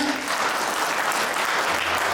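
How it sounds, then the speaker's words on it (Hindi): Loud, sustained applause from a crowd at a farewell ceremony for panchayat secretaries at a training institute in Ranchi, a thick roar of clapping filling the room without pause. "एक बार जोरदार तालियां"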